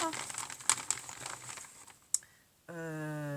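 A sheet of mirror paper handled up close, giving crisp crinkling and rustling with a few sharp taps, before a voice starts talking at the end.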